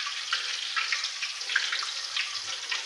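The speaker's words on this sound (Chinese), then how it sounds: "能不能听到这个油里面有声音？" Food frying in hot oil in a restaurant kitchen, a steady bright crackling sizzle with small bubbling pops, moderately close and without talk.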